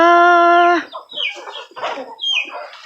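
Chickens on a rural farm cluck loudly and close by: a long, sustained squawk opens, followed by a run of short, choppy clucks.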